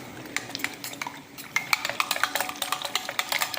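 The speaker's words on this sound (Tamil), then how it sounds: "நல்லா அந்த திப்பி இல்லாமல் நல்லா கரைச்சிக்கலாம்" A spoon stirs gram flour into water in a metal vessel while making roadside-style sambar, giving a run of quick, irregular clinks and scrapes that grow busier and louder midway through.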